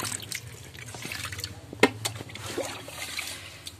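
Water trickles and drips slowly into a guppy tub being set up, a soft, close splashing with scattered drops and one sharper splash midway, no talk.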